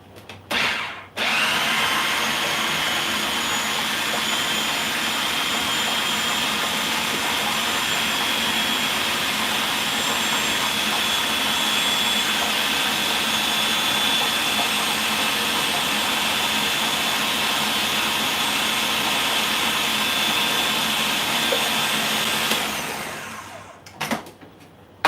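A food processor whips ricotta with garlic and herbs, a loud, steady, close whir that runs unbroken for over twenty seconds before spinning down and stopping.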